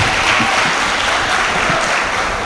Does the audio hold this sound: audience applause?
yes